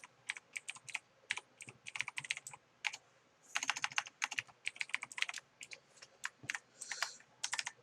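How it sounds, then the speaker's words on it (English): Computer keyboard typing out Java code, a steady run of crisp, close key clicks in uneven bursts with short pauses between words, no voices. "Now, let's go and type it again."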